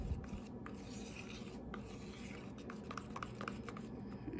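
Colour drops being stirred into melted chocolate, a soft continuous scraping and rubbing of a utensil against a bowl, steady and close with small clicks, no voices.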